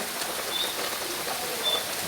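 Steady rain falling, a dense hiss of drops on surfaces that stays even and fairly near throughout, with no voices.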